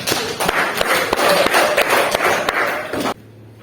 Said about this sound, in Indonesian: Kita kasih tepuk tangan buat teman kita Arsa